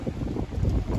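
Low, buffeting wind rumbles against the microphone in uneven gusts during a strong wind advisory with storms and tornado warnings, a dense blustery roar with no voices.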